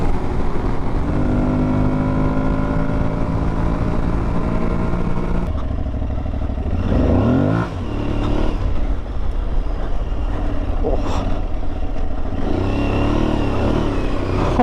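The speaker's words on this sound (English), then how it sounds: "we're gonna ride the Tuareg 660 for a couple hours" An Aprilia Tuareg 660 adventure motorcycle ridden over sandy desert dirt-bike trails, its engine droning steadily and loudly, revving and shifting with wind rush, close up throughout.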